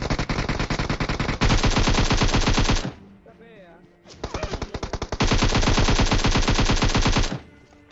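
AKM assault rifle fire in the PUBG battle royale game: two long, loud bursts of rapid automatic shots separated by a brief quieter pause with faint game sounds.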